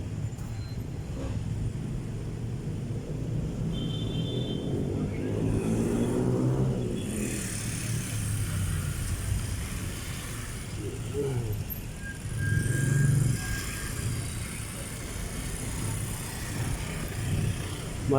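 Cars drive along a busy street near a newly opened bridge in Manila, several passing in turn with rising and fading engine swells. Voices talk over the traffic.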